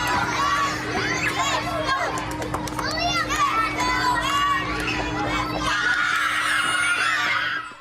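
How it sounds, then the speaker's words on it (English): A crowd at an Astros baseball game at Minute Maid Park cheers and shouts continuously, with excited children's voices screaming and calling out over a loud, dense roar that swells near the end. "And the crowd goes wild."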